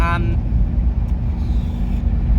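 Toyota Hilux driving, a steady low engine and road rumble heard from inside the cab, continuous and fairly loud throughout.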